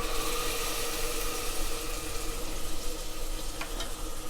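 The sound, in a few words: ground masala poured onto sautéed onions, sizzling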